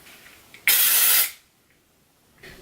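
Dry shampoo hisses from an aerosol can in one steady burst of about two-thirds of a second, loud and close, then fades into quiet room tone.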